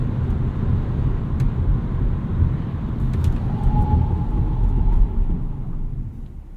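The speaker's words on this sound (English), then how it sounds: "Wait till this car goes by." A steady low rumble of a car passing close by swells and fades, with faint road noise and no talking.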